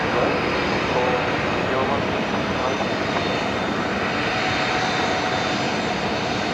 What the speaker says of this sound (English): A220 coming